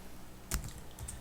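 Typing on a computer keyboard while writing Java code: a few soft, scattered keystrokes with a couple of sharper clicks over a quiet room hum, no speech.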